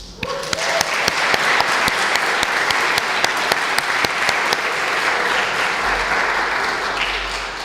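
A celebration audience bursts into loud, sustained applause that fills the room, with dense clapping holding steady for several seconds before easing off slightly near the end.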